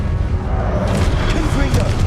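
Fiery Confringo spell blasts in Hogwarts Legacy, a dense, loud rumbling boom that rolls on without pause through the short stretch, with a brief burst of higher crackle partway through.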